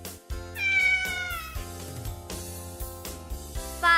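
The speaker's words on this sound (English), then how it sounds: "Cat," A cat gives a clear meow, then a second rising meow near the end, heard over a steady music bed with no speech.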